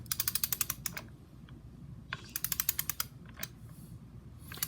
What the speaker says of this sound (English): I got the torque wrench set at 75.